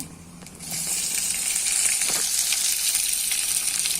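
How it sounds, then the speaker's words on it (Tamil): Dried red chillies and cumin crackling in hot oil as onion begins to sauté, for a kara kuzhambu: a bright, steady close sizzle that swells after the first half second and holds evenly, with no speech. "வரமிளகா. நல்லா படப்படன்னு வருது பார்த்தீங்களா?"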